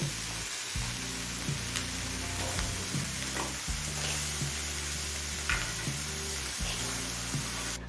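Eggplant, onion and cauliflower fry with spices in a pan, making a dense continuous sizzle, while a low steady hum runs underneath throughout.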